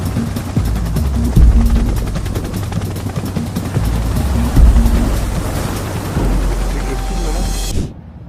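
A loud, steady helicopter rotor drone from a helicopter airlifting a ship's crew at sea, with a low thumping hum filling the whole stretch before cutting off abruptly at the end.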